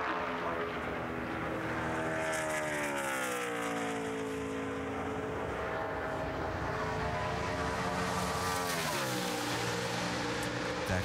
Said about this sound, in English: Michael McDowell. Out on the track in the 98 car